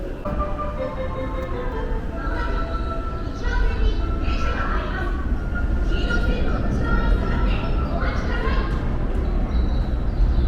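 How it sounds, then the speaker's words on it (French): A Tokyo metro train pulls into the station with a continuous rumbling roar that swells partway through, while short melodic tones sound over the rolling noise. "Il y a même la musique de Olivier Tom quand le métro il arrive."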